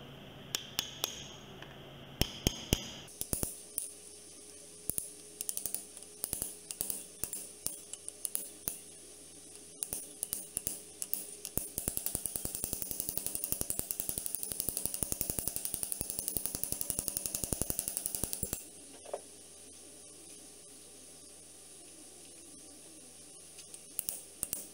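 A punch is struck repeatedly to drive a hub seal in flat side first, giving a series of sharp, close metallic taps in irregular clusters, with a stretch of denser rattling tapping in the middle.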